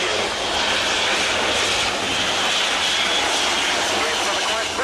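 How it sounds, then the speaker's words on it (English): An Airbus A400M Atlas military transport aircraft in an airshow flying display at RIAT 2017, a loud, steady, roaring engine drone filling the whole stretch without pause. "It's another quite brilliant demonstration by Anthony Flynn and Jonathan Taylor from Airbus Defence and Space of the Airbus A400M"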